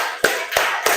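Students in a physics class do a counted rhythmic clap, three sharp, distinct claps spaced evenly about a third of a second apart, close and clear with little else around them.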